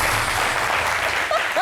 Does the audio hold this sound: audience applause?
yes